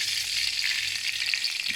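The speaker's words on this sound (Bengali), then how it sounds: "এখন তেল দিয়ে দিলাম।" Hot oil sizzles steadily in a heated wok, a loud, dense frying hiss that holds even and unbroken from start to finish, with no voices.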